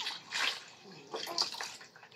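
A child splashes in bath water, with broad splashy bursts near the start and again in the second half, and voices faintly in the background.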